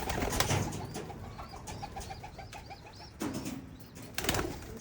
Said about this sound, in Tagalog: Ayaw magronda mga kalapatids kasi gutom.